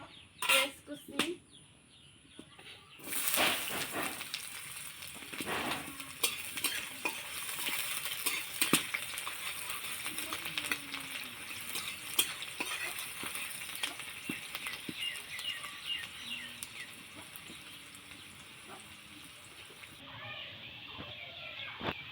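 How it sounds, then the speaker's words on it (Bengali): Chopped onions drop into hot oil in a pan and burst into a loud, continuous sizzle, with scattered clinks and scrapes of a spatula stirring throughout before the frying eases toward the end. "তো আমার তেলটা গরম হয়ে গেছে, আমি দিয়ে দিব পেঁয়াজ কুচি"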